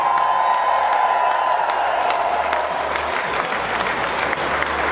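A large crowd at a line dance world record event bursts into loud, dense applause with scattered cheers and whoops, sustained and close for several seconds with no talking.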